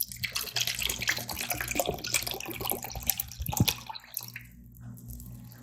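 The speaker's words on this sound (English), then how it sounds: "Okay, so I'm just gonna pour it in here," Suprep colonoscopy prep liquid pours steadily into a container, splashing and gurgling for several seconds before trailing off into a few drips, close by.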